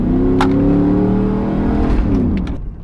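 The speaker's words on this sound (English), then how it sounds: "we're just gonna go ahead and rev it up right here and go fast" Chevrolet Silverado engine revving hard during a test drive with a loss of power, a loud sustained roar with rising harmonic pitch that eases off near the end, heard alone without talk.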